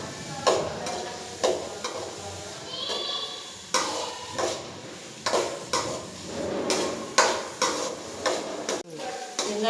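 Onions and tomatoes fry in a pan for egg rice with a soft, continuous sizzle, broken by repeated close clinks and scrapes of a spoon stirring against the metal.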